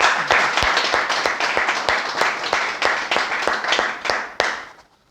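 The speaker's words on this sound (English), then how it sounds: "Big round of applause for him as well" A class at an IELTS preparation institute claps, with distinct individual claps forming a brisk, somewhat sparse applause that fades out over about five seconds.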